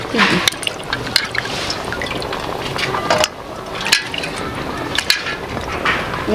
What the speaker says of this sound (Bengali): ধুয়ে নিলাম, ধুয়ে জলটা ঝরাই।